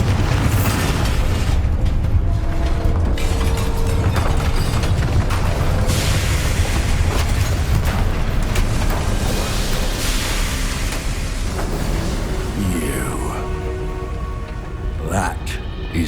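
Battle noise from the video game Hogwarts Legacy, including a Bombarda spell explosion, forms a loud, continuous wash of rumbling blasts and crackling effects lasting the whole stretch, with voices talking over it.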